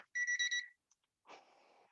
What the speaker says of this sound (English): That's the timer letting us know that we are done.